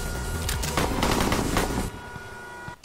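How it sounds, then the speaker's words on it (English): Rapid automatic gunfire bursts from a moving getaway vehicle in the Henry Stickmin Collection game, dense and loud for about two seconds before cutting to quieter game sound and a final sharp hit. "Shooting from a moving vehicle is actually pretty hard"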